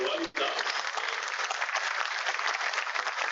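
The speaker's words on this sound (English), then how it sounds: "let's have a huge round of applause for that Garwani dance" An audience claps for a Garwani dance at a physics olympiad closing ceremony; after a brief gap the applause rises into a steady, dense, fairly distant patter that carries on evenly to the end.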